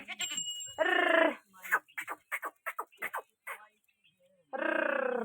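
Goats bleat up close, with two loud drawn-out calls set apart by a stretch of quick, choppy human vocal sounds.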